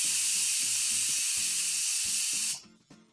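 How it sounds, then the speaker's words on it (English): A pressure cooker vents steam in a kitchen while chana dal cooks, giving a loud, continuous hiss over a faint background hum that cuts off abruptly near the end, leaving quiet clicks. "I think we have to release some steam from the pressure cooker."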